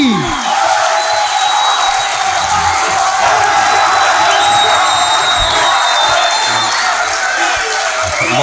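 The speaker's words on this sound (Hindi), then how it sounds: "भरपूर तालियों में इस्तकबाल कीजिए तहसीब" Live audience at an Urdu poetry recital giving the poet Tehzeeb Hafi a standing welcome: sustained broadband crowd cheering and clapping with whoops, steady and loud throughout.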